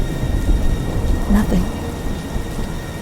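A thunderstorm with heavy rain pours steadily, a dense broadband wash of downpour with a low rumble of thunder swelling briefly in the middle, loud and close throughout.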